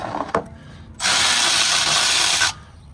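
A power tool whirs loudly for about a second and a half, taking bolts off near the rear differential of an F-body Camaro with a 10-bolt axle, after a brief metallic clunk. No one talks.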